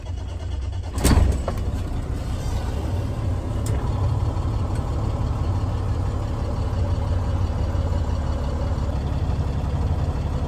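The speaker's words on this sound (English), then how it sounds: "and start the truck." A grain truck's engine cranks and catches with a brief burst, then settles into a steady, loud, rumbling idle that continues evenly up close outdoors.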